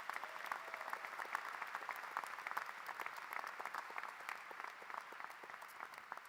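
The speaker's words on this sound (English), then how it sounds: "So please give them a great round of applause." Steady round of applause from a ceremony audience for medical school faculty at a hooding event, dense even clapping heard at a distance, fairly faint and unbroken.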